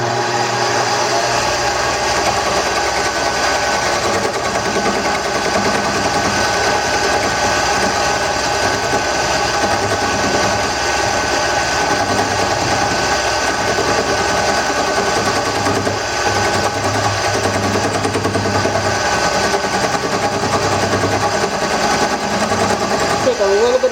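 Wood lathe spinning while a tool handle for an ambrosia wood project is turned, a steady loud motor whine with a cutting hiss running continuously from start to finish, and a voice heard now and then over it.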